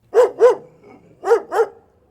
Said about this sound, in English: Fang barked back.